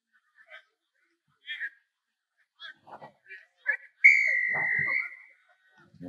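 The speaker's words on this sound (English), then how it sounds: "Referee has blown his whistle, and we are off." A referee's whistle sounds one long, loud blast, clearly audible, to start a soccer consolation match, with brief crowd or commentary voices just before it.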